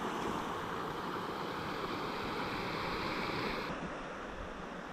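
Steady rush of waves and flowing water at an outdoor swimming spot in Northern Ireland, continuous broadband wash with some wind, loud and close with no talk.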